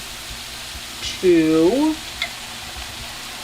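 Vegetables softening and frying in a pan for a seafood gratin give a steady, faint sizzle throughout, with a short burst of voice partway through.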